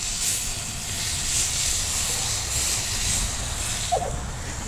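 Flat iron steak sizzles on a Fuego Element gas grill after being flipped, a steady bright hiss and crackle that holds evenly throughout, with one small clink near the end.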